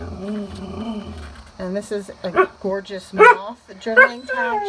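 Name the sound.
dog barking at neighbors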